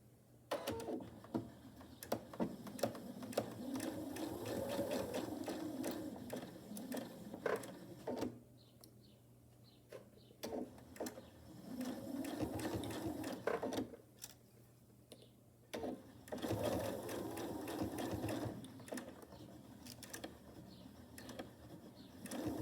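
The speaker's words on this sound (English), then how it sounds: "Now I'm just going to do a basting stitch along the edge on each side." A sewing machine runs a basting stitch along the edge of pinned face mask pleats, in several steady mechanical runs of whirring and ticking separated by short pauses, close and moderately loud.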